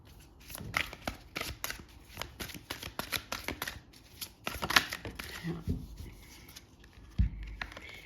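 Tarot cards being shuffled by hand for a reading, a steady run of quick papery riffles and flicks close up, ending with a soft thump as the deck is set down.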